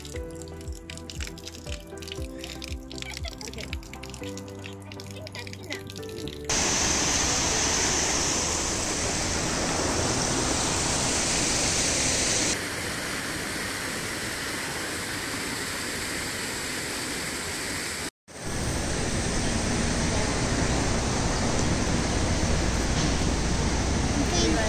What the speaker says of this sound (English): think this water fountain's out of control.